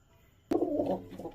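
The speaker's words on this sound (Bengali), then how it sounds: "আর এখানে অনেকগুলোই পায়রা দেখতে পাচ্ছ আছে।" Pigeons coo inside a crowded loft where birds are nesting on eggs. After a brief quiet moment, a close, steady, warbling coo rolls on continuously with no talking.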